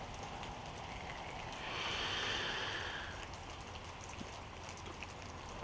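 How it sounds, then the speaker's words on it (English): Outdoor rain falls with a steady broadband hiss, briefly swelling louder for about a second in the middle before settling back, with no talking. "It's raining, man."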